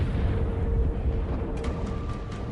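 A city block blowing up after a gas leak: a continuous deep, heavy rumbling roar fills the whole stretch, loud and sustained without pause, with a few sharp crackling bursts rising near the end.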